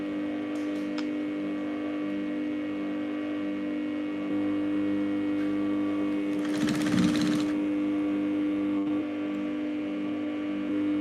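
A sewing machine stitches a lace sleeve in a steady mechanical hum, with a brief louder burst of running near the middle, close and alone with no talk.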